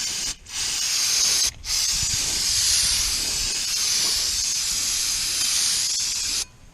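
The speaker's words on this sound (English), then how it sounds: "We just get this stuff from Advance and spray it down pretty good" Brake cleaner sprayed from an aerosol can onto the drum brakes of a C10 truck, loud close hissing bursts in three long sprays separated by short pauses, with no talk.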